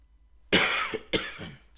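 A man in a woodworking shop lets out two short, sharp coughs in quick succession, close and fairly quiet, with silence before them.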